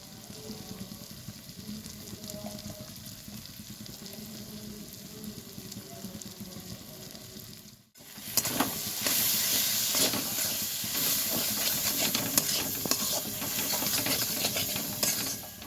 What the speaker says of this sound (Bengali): সব গুঁড়ো মশলাগুলো দেওয়ার পর মশলাটা ভালোভাবে আমি কষিয়ে নিয়েছি।